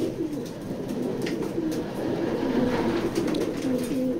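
A female checker pigeon in a loft coos in repeated low, throaty phrases, close and clear over a faint background hiss. No one speaks.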